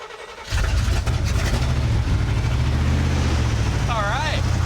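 An old square body tow truck, pulled from a junkyard, fires up and keeps running with a loud, slightly lumpy idle that continues steadily, a voice calling out briefly over the engine near the end.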